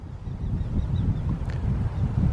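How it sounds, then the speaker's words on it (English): Small birds give faint, repeated chirping calls in open countryside with long grass near ancient henges, thin and distant over a constant low rumble of wind. "Interesting bird sound."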